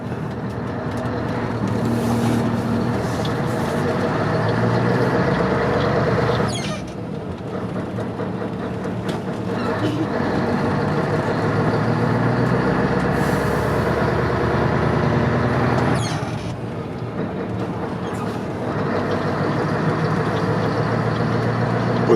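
A Scania 143M 500 truck's engine pulls hard from the cab on a regional road, a loud continuous drone with two brief dips as gears change, then climbing again.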